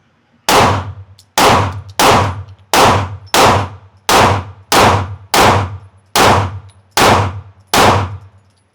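A Glock pistol fires ten evenly spaced rounds at a shooting range, each shot a loud, sharp crack with a quick ringing decay, about one per second.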